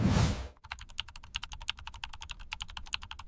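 Rapid, steady typing on a computer keyboard, a dense run of crisp key clicks close up following a brief burst of noise at the start.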